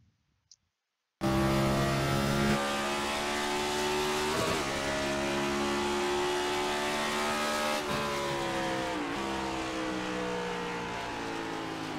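NIS race car engine in the iRacing sim at World Wide Technology Raceway, starting abruptly after a brief silence, then a loud continuous engine whine climbing in pitch through upshifts.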